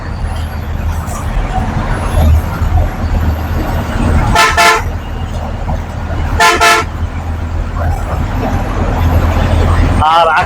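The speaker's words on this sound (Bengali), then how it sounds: "যমুনা সেতুর পর আবারও দুর্দান্ত গতিতে ছুটছে আমাদের বাস।" A Higer non-AC bus runs at speed on the Dhaka–Naogaon highway past the Jamuna bridge. Its engine and road roar is steady and loud, broken by two sharp horn blasts near the middle and a brief squeal at the end.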